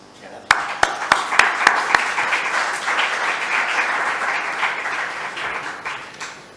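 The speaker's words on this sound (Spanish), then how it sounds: "aplauso" Applause from a seated audience at a poetry lecture, opening with several sharp, distinct claps that quickly swell into a steady, dense wash of clapping which holds at even loudness throughout.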